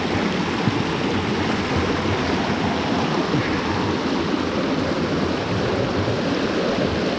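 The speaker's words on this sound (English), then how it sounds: "of the stream, as the water flows" Rain-fed stream water pours and burbles nearby in a constant, full rushing wash that holds steady throughout.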